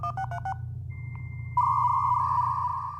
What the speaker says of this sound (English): A dial-up modem connecting to the internet.